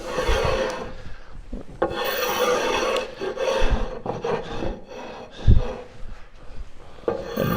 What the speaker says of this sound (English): And we scrape all the glue off because we don't want to get any glue on our planer when we run it through.